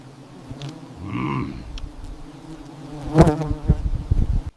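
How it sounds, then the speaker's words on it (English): Bees buzz steadily at close range, a low droning hum with brief louder passes as insects fly near, over faint outdoor background. "Can already hear the bees."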